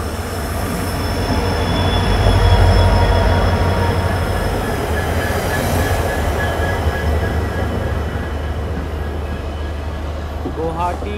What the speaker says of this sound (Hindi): गुवाहाटी रंगिया मुर्गोजेली पैसेंजर में डबल EMD लगे हुए।